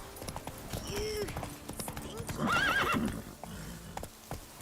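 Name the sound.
horse Roach galloping, hooves clip-clopping, from video game Witcher 3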